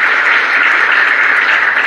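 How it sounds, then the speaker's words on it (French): Sustained applause from the audience at a digital conference launching a smart port challenge, a loud, even wash of many hands clapping continuously throughout. "Merci infiniment sous vos applaudissements"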